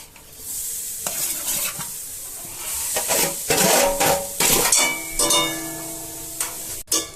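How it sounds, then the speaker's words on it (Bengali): Oil goes into a pan while making puli pitha, setting off a sizzle with scraping stir strokes and clinks against the pan. The sound is close, uneven and pulsing, with no voices. "পিঠা তৈরি করার জন্য তেলগুলো দিয়ে দিচ্ছি।"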